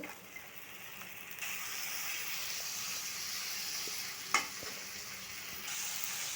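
Chicken pieces frying in oil with ginger-garlic paste, garam masala and turmeric for aloo chicken curry, a steady close sizzle with stirring and one sharp utensil knock midway, no voices.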